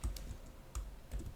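Computer keyboard typed on lightly while entering a Python print command, three quick soft keystroke clusters, faint and close with no speech.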